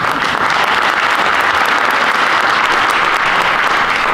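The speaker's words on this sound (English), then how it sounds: "you got more applause than I did" Audience applause fills a school district community facility forum, a dense, steady clapping that carries on unbroken for several seconds.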